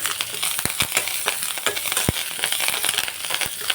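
Dry masala with coriander roasts in a pan, a continuous crackly sizzle broken by sharp scraping and tapping clicks as it is stirred, close and moderately loud.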